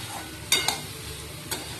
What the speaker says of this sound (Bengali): মেন হচ্ছে কাঁচা লঙ্কা দিয়ে ভালো করে এবার ভাজা ভাজা করব